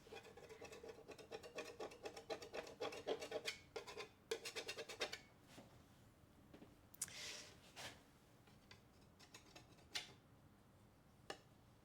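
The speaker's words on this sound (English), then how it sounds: "And then you can do some serious scrapage, like this kind of thing." A scraper and sandpaper work over paint on a vintage painted background, giving faint rapid scratching strokes in bursts with short pauses and a few sharper scrapes.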